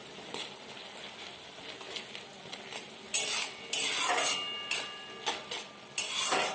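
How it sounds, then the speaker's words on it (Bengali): A spatula scraping and stirring a Maggi noodle mixture with vegetables in a pan for spring rolls, quiet sizzling underneath, then several sharp, louder metallic scrapes in quick uneven succession, close by, no talking. "এটা পুরো জলটা মরে যাওয়া পর্যন্ত নেড়ে চেড়ে মরিয়ে দিতে হবে জলটা।"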